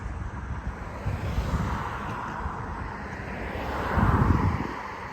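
A small private propeller plane drones overhead amid wind at a beach by Boynton Inlet, its engine swelling louder toward the end as it passes low and close.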